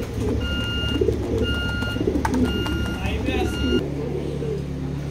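Racing pigeons coo in low, repeated rumbling phrases close by, mixed with other birds and a steady background hum, while someone talks over them in stretches.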